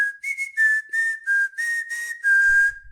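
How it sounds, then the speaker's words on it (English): A person whistles through their teeth while smiling, a series of short, fairly loud, breathy tones with a slight wavering pitch and brief gaps, ending on a longer held note. "it's whistling through my teeth"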